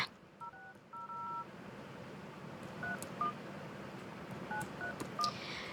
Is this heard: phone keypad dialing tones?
yes